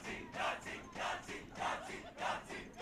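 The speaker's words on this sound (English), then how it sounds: "Hear the crowd yelling, Yahtzee behind me." Crowd at a girls' high school softball game yelling in loud, rhythmic surging bursts, roughly four swells of shouting voices over about three seconds, near and filling the space.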